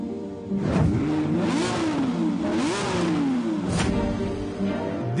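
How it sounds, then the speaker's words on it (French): A naturally aspirated Lamborghini V12 turns over and fires, then revs in loud, rising and falling sweeps with a brief dip and another rev near the end, close and alone without voices. "Démarrer un V12 atmosphérique est un bonheur rare"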